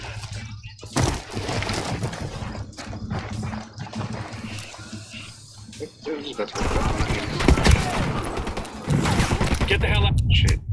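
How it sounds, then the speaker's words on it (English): A grenade blast and gunfire rip through a Ghost Recon Wildlands firefight, with dense, crackling bursts and rumbling impacts that swell loudly in the second half while voices talk over the action. "I'm gonna throw a nade down there."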